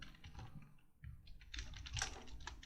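Close, quiet clicking of keys on a computer keyboard in short irregular bursts, with a brief pause before a denser run of keystrokes.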